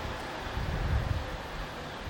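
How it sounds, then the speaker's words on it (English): Wind at a beach buffeting the microphone, a steady broadband rush with a low rumbling gust in the middle, no voices. "It's a bit windy now"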